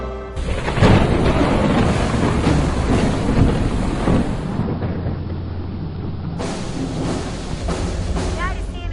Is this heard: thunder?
yes